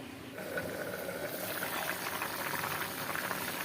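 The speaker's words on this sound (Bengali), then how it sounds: "ছোট মাছটা উতরানো চলে আসছে" A pot of small-fish curry in gravy bubbling on the stove, a steady close boiling hiss that rises after a brief quiet start and holds evenly, with no voices.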